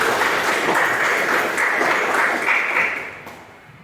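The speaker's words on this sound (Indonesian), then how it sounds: "tepuk tangan buat Juli" Classmates in a school lesson clap for a student named Juli, a brisk, steady patter of many hands that tapers off near the end.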